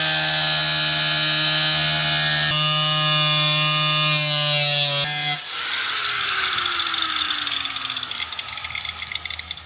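Power cutting tool working on a Pontiac G8 GXP during a ZL1 fuel pump install, a loud steady whine with strong harmonics that shifts pitch twice before breaking into a harsher, noisier grind that gradually fades.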